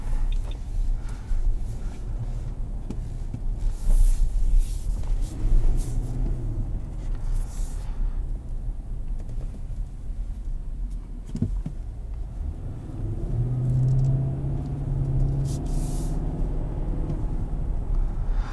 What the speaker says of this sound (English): Seven-speed automatic doing its thing.